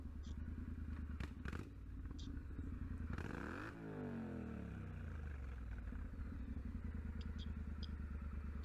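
A motorcycle engine drones steadily on a road while a car driver blocks the biker, with a sharp clatter and a passing whoosh midway before the engine hum settles back in.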